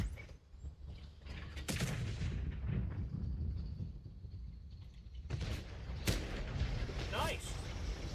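Heavy in-game gunfire and artillery-like blasts rumble through a World of Tanks battle as a missile strikes the tank, with sharp bursts near 2, 6 and 7 seconds over a continuous loud low roar.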